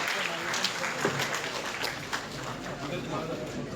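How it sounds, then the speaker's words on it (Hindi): An audience at a school guidance programme applauds to welcome a guest, a broad, moderate patter of clapping continuing steadily while a voice talks over it. "एक बार जोरदार तालियों से सर का स्वागत करेंगे।"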